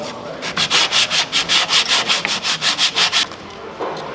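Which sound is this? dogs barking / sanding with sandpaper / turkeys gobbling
sanding with sandpaper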